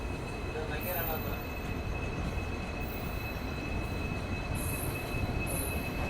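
The Tirupati Hubballi Express, hauled by a WDP 4D diesel locomotive, runs along with a steady, fairly distant rumble, faint wheel squeal and a thin high whine above it.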